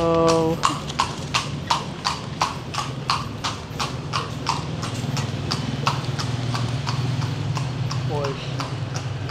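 Horse hooves clip-clop steadily on the street of the heritage city of Vigan, Philippines, as a horse-drawn carriage passes, a close, even beat of sharp knocks over several seconds with faint voices in the background.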